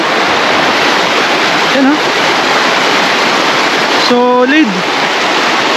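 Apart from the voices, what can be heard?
river water flowing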